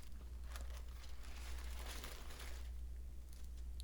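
Parchment paper crinkles softly and steadily as a swiss roll sponge cake is flipped over on a rack, a continuous close rustle over a low background hum.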